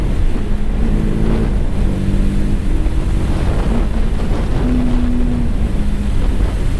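A TVS Apache RTR 310 motorcycle runs with a steady engine drone, its throttle blipped in short stepped rises and falls of pitch over the ride, with wind and road noise loud throughout and no voices.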